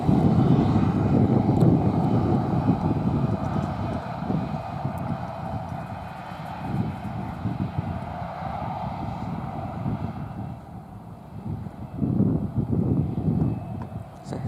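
A light general-aviation aircraft takes off from London Luton's runway on a windy afternoon, its engine drone loud and steady with wind buffeting the microphone, easing slightly toward the end.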